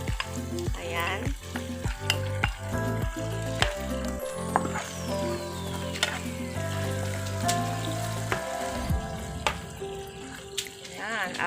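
Pre-fried chicken pieces tipped into a pan of sautéed aromatics for a creamy chicken mushroom dish, giving a run of sharp thuds and clatters followed by loud, steady sizzling over a faint tonal background.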